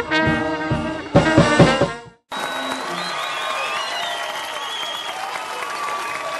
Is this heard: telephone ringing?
no